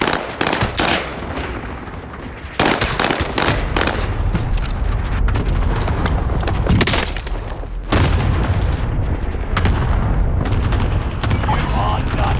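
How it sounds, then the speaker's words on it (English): Cluster airstrike explosions in Warzone, a long barrage of loud overlapping booms and blasts rolling on continuously, with voices over the chaos. "Cluster strike is active."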